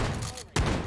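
Gunfire in the VR shooter H3VR Take & Hold, a brief burst of shots cracking sharply after a short drop in the background noise.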